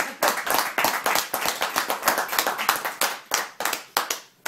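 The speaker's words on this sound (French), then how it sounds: "je crois qu'on peut vraiment l'applaudir" A small audience claps by hand in an indoor gathering, with individual claps distinct and close, fairly loud, keeping an uneven rhythm that starts to thin out near the end.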